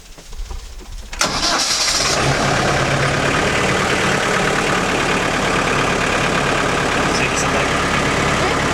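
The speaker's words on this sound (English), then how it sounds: "So in this particular tractor, it's a diesel" A diesel tractor engine cranks and catches after a moment of quiet, then settles into a steady, loud rumbling idle that continues without a break.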